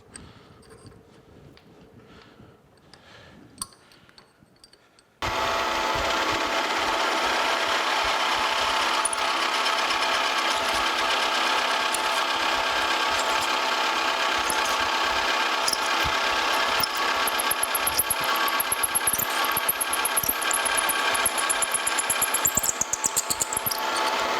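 After several seconds of quiet clinking and handling, a metal lathe starts abruptly and drills with a larger bit, running with a loud, steady grinding whir that continues to the end.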